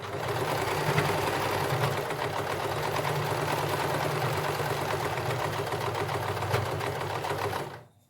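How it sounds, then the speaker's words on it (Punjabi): Sewing machine stitching lace onto the hem of a printed cotton suit, a continuous rapid mechanical whir with a fast stitching rhythm that runs steadily and then stops abruptly near the end. "ਲੈਸ ਇਸ ਤਰ੍ਹਾਂ ਰੱਖ ਕੇ ਤੇ ਹੌਲੀ ਹੌਲੀ ਮਸ਼ੀਨ ਚਲਾਉਂਦੇ ਜਾਇਓ ਜੀ"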